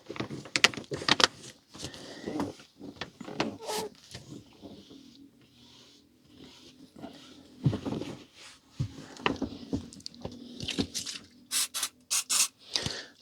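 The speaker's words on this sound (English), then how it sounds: "this one had a little mark there, which is coming off now" Something rubs off a mark stuck to a book's dust wrapper with close, scratchy strokes, bursts of brisk scrubbing broken by quieter pauses, no voices.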